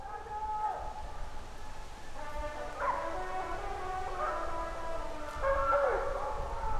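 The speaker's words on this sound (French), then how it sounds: "ça fait plaisir d'entendre les chiens retrouver une voix quand même" Hunting hounds bay and give tongue in a pack on a stag hunt, several overlapping drawn-out calls rising and falling at a moderate distance over steady outdoor ambience.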